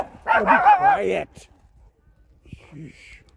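Dogs in a forest bark and yip in a quick, close burst lasting about a second, followed by a short, fainter yelp a moment later.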